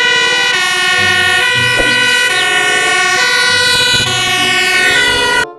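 A loud electronic siren from a toy fire truck wails continuously with a steady tone, close up, cutting off at the very end.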